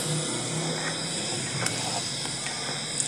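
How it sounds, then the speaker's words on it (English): Water with tea spices boiling in a pot, giving a steady, close hiss with soft bubbling textures that holds evenly throughout, with no talking. "It's ready, it's boiling."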